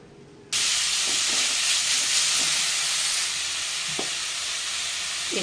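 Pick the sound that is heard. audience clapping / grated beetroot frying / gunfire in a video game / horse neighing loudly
grated beetroot frying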